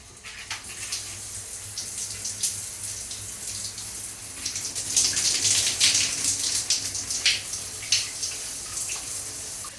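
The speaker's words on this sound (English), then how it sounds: "You have two options, either the shower or a rain shower." A rain shower head runs in the bathroom of an Explora Journeys Ocean Suite on a cruise ship, a continuous hissing spray of modest pressure that swells slightly midway and plays alone.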